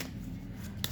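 Cards are handled and drawn from a deck, a brief soft slide and faint papery rustle against a quiet, hissy room background.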